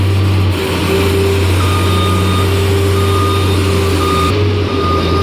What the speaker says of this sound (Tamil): மக்களே இந்த வண்டிக்கு பேர் தான் கல்மாருன்னு சொல்லி சொல்லுவாங்க கண்டெய்னர் டுவெண்ட்டி ஃபிட்டு ஃபார்ட்டி ஃபிட்லாம் தூக்கி வைக்கிறது